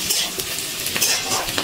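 Mixed vegetables fry in a pan over a medium gas flame, giving off a loud, dense hiss with light spatula scrapes and taps mixed in. Nobody talks.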